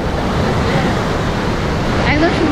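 Sea waves wash along Puri beach in a steady, broadband roar with gusty wind noise, recorded while moving along the shoreline, the surf continuous and fairly loud throughout.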